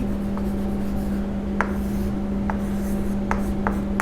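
Pen or pencil writing on paper, with a heading being written on a journal-accounting page, quiet continuous scratching and a few sharper strokes over a steady background hum.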